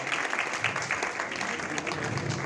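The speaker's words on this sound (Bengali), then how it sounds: "সবাইকে করতালির মাধ্যমে ধন্যবাদ" An audience at a Bangladeshi teachers' gathering claps together in a dense, steady patter of applause that holds at an even level for a couple of seconds.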